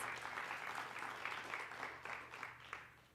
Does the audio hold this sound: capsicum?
no